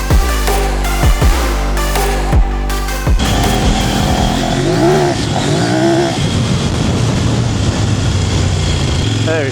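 A Kove 800X rally motorcycle engine revs up in sharp throttle blips, then pulls hard and loud under acceleration with a rising, wavering exhaust note, up close and dominating, with some wind noise.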